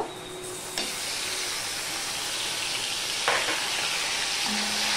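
Grated garlic hits hot oil with a chickpea tempering and fries with a continuous, fairly loud sizzle and hiss, plus a couple of brief clinks along the way.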